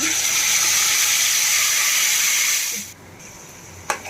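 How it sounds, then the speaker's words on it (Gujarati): Asafoetida and garlic chutney hitting hot oil in a Kathiawadi-style garlic chutney, giving a loud, steady sizzling hiss that fades out near the end, followed by a brief clink. "તેલ થોડું ગરમ થાય એટલે આપણે એમાં હિંગ એડ કરી દઈશું અને આપણે ચટણી એડ કરી દઈશું"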